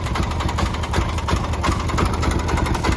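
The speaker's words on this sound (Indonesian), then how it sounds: "Motor bermesin diesel yang berisiknya minta ampun." A diesel-engined motorcycle runs at idle, its engine loud and close with a dense, rough, knocking rumble that holds steady throughout.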